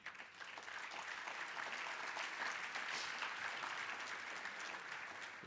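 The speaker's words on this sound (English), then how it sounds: "I want you to give a round of applause to the people who helped put this together, the Urban League Communications team." Sustained audience applause at an Urban League annual dinner, a dense steady patter of many hands that stays even in level for the whole stretch, with no voices over it.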